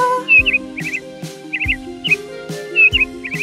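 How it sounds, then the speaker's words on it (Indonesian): A bird chirps repeatedly in short, bright, twittering bursts at a steady rhythm, close and clear over soft tonal background music. "Saat burung itu terbang di udara"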